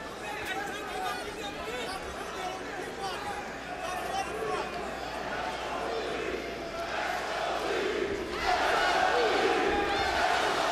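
Boxing crowd at Mandalay Bay in Las Vegas during a rematch bout, a broad roaring babble of cheers and shouts that swells louder toward the end, heard under a commentator's voice.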